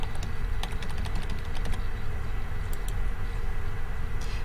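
Someone types a sign-in password on a computer keyboard, a quick irregular run of close, crisp key clicks with short pauses, no speech.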